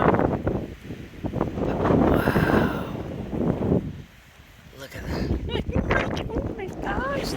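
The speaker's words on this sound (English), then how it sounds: "the wind is so strong" Strong wind gusts roar across the bluffs at El Malpais National Monument, buffeting loudly and rising and falling while someone speaks excitedly over it.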